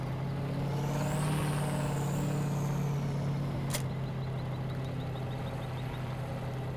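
A Chevrolet Silverado dually pickup in Farming Simulator hauls a loaded trailer of grain or potatoes, giving a steady, loud low engine drone throughout, with a brief sharp hiss midway and faint repeating beeps afterward.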